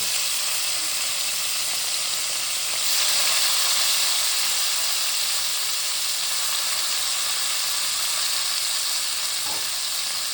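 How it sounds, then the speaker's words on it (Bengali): Chopped medium tomato hits a hot pan, a loud, bright, continuous sizzle that swells slightly on contact and holds steady throughout, close up with no talking. "একটা মিডিয়াম সাইজ টমেটো ভালোভাবে কুচিয়ে নিয়েছি, আমরা দিয়ে দেবো"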